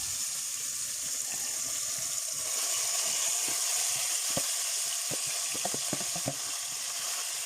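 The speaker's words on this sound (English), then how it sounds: "I'm going to add it to a pot and let it fry first" Food fries in a little ghee in a pot, giving a close, steady hiss and sizzle with a few sharp pops and stirring taps toward the end, and no talk.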